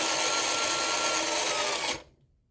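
Electric motor of an MN86 RC G-Wagon model car running at full throttle with a new ESC, a loud steady high-pitched whine held for about two seconds before cutting off and fading quickly.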